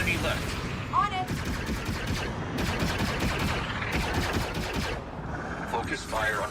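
Rapid bursts of blaster and gun fire crackle through a ship combat battle in the Star Wars Outlaws video game, dense volleys repeating in clusters with brief gaps, loud and close, with faint voices mixed in.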